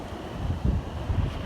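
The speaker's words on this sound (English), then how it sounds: "Oh, gotta get out of that wind." Strong wind gusts buffet the microphone outdoors on a warm, windy day near a barn, a steady low rumble that swells in two louder blasts.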